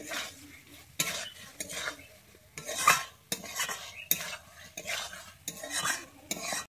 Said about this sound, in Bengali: আমি ভেজে রাখা পটলটা দিয়ে একটুক্ষণ কষিয়ে নিচ্ছি।